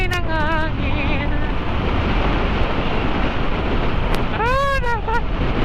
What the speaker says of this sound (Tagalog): Nagsimoy ng hangin.